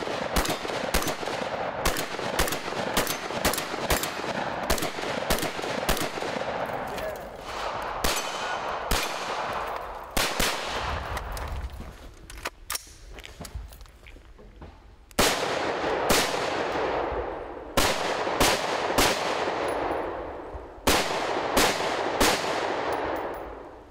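Rapid strings of sharp gunshots from a scoped gun at a shooting competition, loud and close with metallic clangs of targets, coming in bursts with short pauses between.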